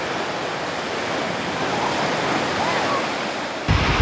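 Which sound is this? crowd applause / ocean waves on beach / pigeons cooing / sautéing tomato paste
ocean waves on beach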